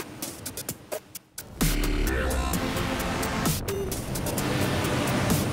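A Centouno Navi Vespro motor boat opens up to full throttle: after scattered knocks and clatter, a loud steady engine roar mixed with rushing water and wind takes over and holds.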